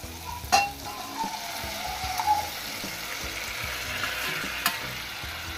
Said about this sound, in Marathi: आता आपण डाळ आणि पालक यामध्ये ऍड करूया।